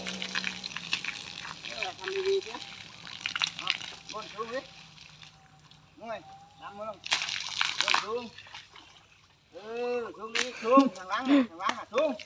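Water is sprayed onto a father's back during an outdoor bath, with bursts of splashing and sloshing over lively, excited talking from people nearby.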